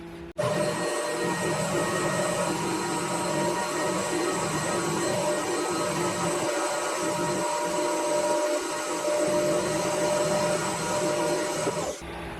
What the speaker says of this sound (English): I've set this up in here so that I can machine the bulk of this, because I want a piston about this long